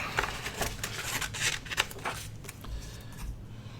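Scissors cutting paper pieces for a craft, a series of quiet close snips and rustles that fade out toward the end.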